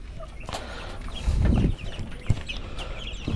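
Laying hens in a pen cluck close by, a few short clucks and rustling bursts over steady farmyard background, with no talking.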